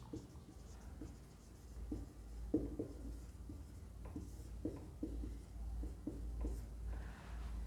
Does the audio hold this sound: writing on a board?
yes